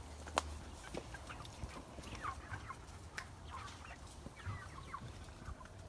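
Chickens in a garden coop, occasional faint clucks and soft calls scattered over quiet background noise, no talk.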